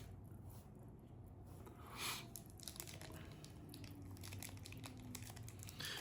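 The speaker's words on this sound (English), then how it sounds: "I will take the cellophane off" Cellophane wrapper crinkling and crackling as it is peeled off a Renfield Remastered box-pressed cigar, quiet close-up rustles with a few sharper crackle bursts, no talking.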